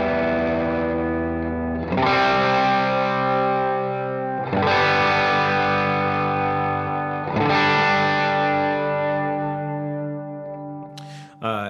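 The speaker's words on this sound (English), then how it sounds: "got some reverb. I turn my 8th note delay on for this part." Sustained electric guitar chords struck three times, each ringing out with a wash of reverb and echoing eighth-note delay.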